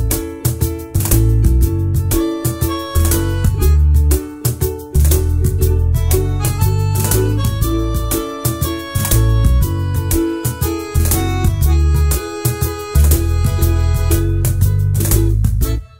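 A cajon loop pattern programmed in FL Studio for an acoustic Bollywood cover plays loud and dense, with deep bass thumps and sharp slaps in a steady repeating groove, alone and without talk.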